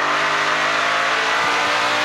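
Onboard a NASCAR Pinty's Series stock car at speed during the Prairie Thunder Twin 125s, the engine roars loud and steady at high revs, with a brief tire-scrub flicker near the end.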